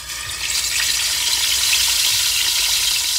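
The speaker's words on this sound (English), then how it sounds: "my oil is heated up enough, so it's hot, and now what I'm going to do is I'm going to slowly add in the fish" Fish fillets being slowly lowered into hot frying oil for a soy sauce fish dish, giving a steady, loud, close hiss of sizzling that swells after the first half second and holds evenly, with no talking.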